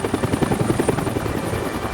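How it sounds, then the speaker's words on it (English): Military helicopters flying close by, a loud, continuous rhythmic thump of rotor blades over a deep engine drone, steady and unbroken throughout with no voices. "One by one, the choppers came and left with their cargo."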